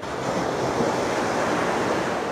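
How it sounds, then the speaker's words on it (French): Big ocean waves breaking on the beach at Pornichet on a seaside walk, a continuous loud surf roar with wind buffeting the microphone and no voices. "Dis donc, il y a des sacrées vagues."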